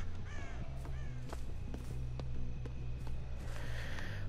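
Harsh cawing from a crow in the horror game Dead by Daylight comes in a few short bursts over a steady low in-game drone and scattered footsteps, fairly close and clear, with no speech.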